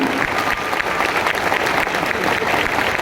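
Hearty applause from an assembled audience at a gathering for a guru, a dense steady clatter of many hands clapping for several seconds, close and fairly loud.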